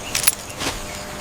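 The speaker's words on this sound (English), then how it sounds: "These original keys now belong to us." Original keys to a 1965 Rolls-Royce jangle briefly, two short metallic clinks close by with nothing else around.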